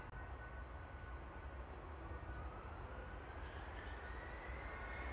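A TUI Boeing 767 airliner at Amsterdam Airport, with a steady, broad engine roar and a slowly rising whine, heard at a moderate distance with no talk.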